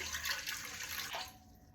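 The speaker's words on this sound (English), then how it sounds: "So we're gonna pour in 320 grams of water." Water poured from a container into a bowl of fresh-milled flour for flatbread dough, a steady close splashing pour that tapers off near the end.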